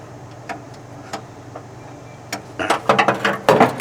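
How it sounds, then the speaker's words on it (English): Wrench clicking on a nut while removing the transaxle from a 1973 VW Thing: scattered ratchet ticks at first, then a louder run of quick, rhythmic metallic clicks up close. "Let me use my other wrench."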